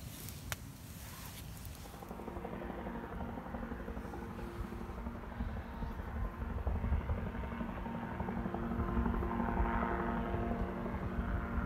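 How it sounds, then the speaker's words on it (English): A light microlight-type helicopter drones overhead near a woodland hammock camp, a steady hairdryer-like whine and rotor hum that builds gradually louder and stays continuous after a brief clatter at the start. "I think it's one of them light helicopters."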